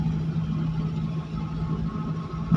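A car engine hums steadily at a constant pitch as the vehicle is driven in fourth gear on a road, a smooth continuous drone with no talk.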